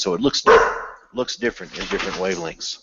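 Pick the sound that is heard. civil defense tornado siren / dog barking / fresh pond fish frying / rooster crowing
dog barking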